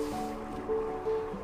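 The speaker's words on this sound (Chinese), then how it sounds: "这是令人幸福的声音，你听这声音哦， 沸腾的声音。" A hot pot boils outdoors in freezing cold, a steady close bubbling and churning rumble with a faint hum over it.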